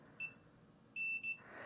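A multimeter in continuity mode, probing the wiring of a power distribution board, gives a short faint beep followed a moment later by a longer double beep in a quiet room.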